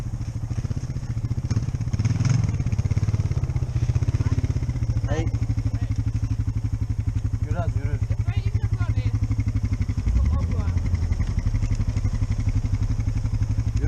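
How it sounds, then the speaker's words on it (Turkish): A motorcycle engine runs steadily and close by for the whole stretch while it tows a sled through snow. People talk and call out over the continuous mid-pitched engine drone. "O da motorla çekiyor."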